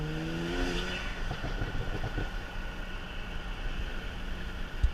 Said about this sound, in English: You guys can hear some more turbo noises.